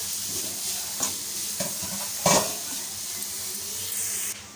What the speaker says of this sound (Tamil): கேரட் வந்து ஒரு ரெண்டு நிமிஷம் மட்டும் மிதமான சூட்டில் வதக்கிப்போம்